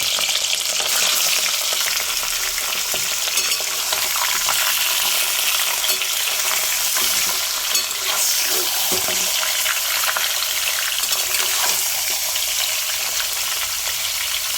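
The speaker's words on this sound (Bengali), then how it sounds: "তেল আর ঘিয়ের মধ্যে আমি গোটা গরম মশলা ফোড়ন দিলাম। এরপর আমি চিকেনগুলোকে তার মধ্যে দিয়ে দিলাম।" Chicken pieces sizzle loudly in hot oil and ghee with whole spices, a steady dense crackle running for the whole stretch with occasional stirring, close and without talk.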